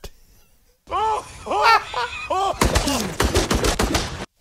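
Gunfire from the action film Violent Night, a loud burst of rapid shots over the last two seconds, coming after a stretch of reacting voices and laughter.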